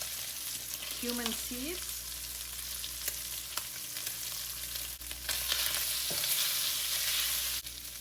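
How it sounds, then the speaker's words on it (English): Lamb pieces frying in oil in a pot, a continuous bright sizzle with occasional stirring scrapes, while a voice speaks briefly over it. "Add a little bit of oil if necessary. Let the meat get some color."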